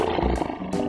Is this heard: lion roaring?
yes